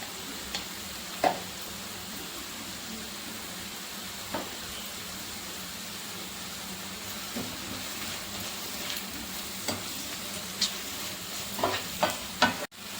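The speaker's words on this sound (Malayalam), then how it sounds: "ഇനി ഇതിലേക്ക് ഒരു ടീസ്പൂൺ ഗരം മസാലയും 1/4 ടീസ്പൂൺ കുരുമുളക് പൊടിയും ചേർത്ത് നമുക്കിത് ഒന്നുകൂടി വഴറ്റി കൊടുക്കാം" Onions sauté in a pan with garam masala and pepper powder for a chicken stew, a quiet continuous sizzle broken by occasional sharp scrapes and clinks of a spoon stirring against the pan.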